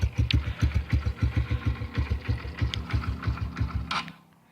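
A Honda CRF125F motorcycle engine runs just after a cold start with a rough, loping, uneven putter close by, each firing pulse distinct, before it abruptly cuts out and falls silent near the end.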